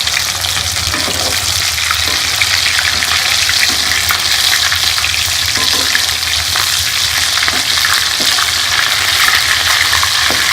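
Rice and potato cutlets fry in a pan, giving a loud, continuous sizzle and crackle of hot oil with faint stirring or turning noises throughout.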